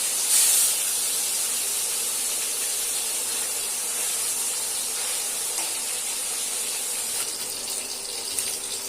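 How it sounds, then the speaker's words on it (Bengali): Parshe fish frying in hot mustard oil in a wok gives a steady, bright hiss and sizzle that carries through the whole stretch with no talk, swelling slightly near the end. "তেল গরম হয়ে গেছে, এবার একে একে মাছগুলোকে কড়াইতে ছেড়ে দেব।"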